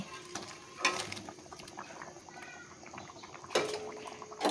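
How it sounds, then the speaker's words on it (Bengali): Curry gravy boiling in a pan, with a faint, steady bubbling and soft liquid patter interrupted by two louder clattering bursts, close and quiet, with no talk. "আর ঝোলটা দেখো বেশ ভালো ফুটে উঠেছে"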